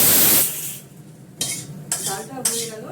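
Food frying and being stirred in a kadai: a steady sizzling hiss that fades, then three sharp scraping clanks of a spatula against the metal pan, close and fairly loud.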